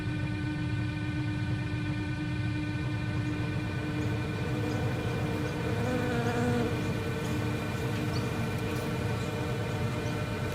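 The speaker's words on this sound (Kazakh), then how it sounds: "Ең жаманы бұл тесіктердің ішінен кішкентай шыбындар шығып жатыр екен." Small flies swarming in a horror animation make a steady, dense insect buzz that runs throughout, fairly close and unbroken, with no talk over it.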